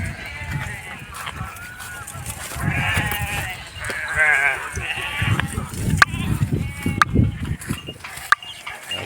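Sheep grazing on a dry field bleat several times in wavering cries, some near and some farther off, over low rustling. Someone talks intermittently among the bleats.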